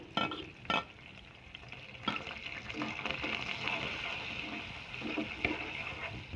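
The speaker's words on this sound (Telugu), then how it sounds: "ఒక కట్ చేసిన ఉల్లిపాయను వేసుకుంటున్నానండి కొద్దిగా కరివేపాకు" Chopped onion and curry leaves dropped into hot oil with cumin seeds, a sharp splash of sizzling at the start followed by steady frying crackle with a few stirring knocks, close and fairly loud, no talking.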